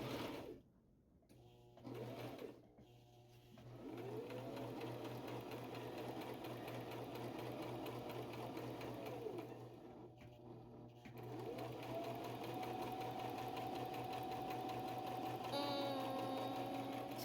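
A five-year-old girl running a sewing machine to practise straight lines, a steady whirring motor hum after a few brief starts, held at even speed for long stretches, close by with a short quiet word or two.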